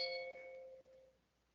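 A mobile phone rings somewhere in a room with a short, faint bell-like chime of clear ringing tones that fade out within about a second, with no voices.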